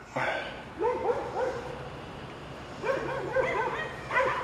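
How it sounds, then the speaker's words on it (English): Several dogs bark and yip in two bursts, one near the start and another later on, with small whimpers between, heard indoors at moderate distance during a fuel injector job on a 2.5 VW Jetta. "Hang on a second, I gotta yell at my dogs."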